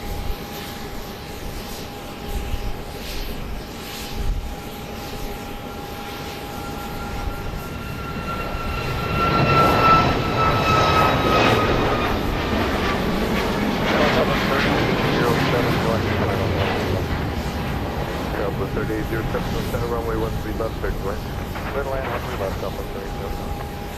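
Jets taking off at Dallas Love Field at night, heard from a parking garage as a distant roar that swells and holds, with a steady tonal whine and general background noise.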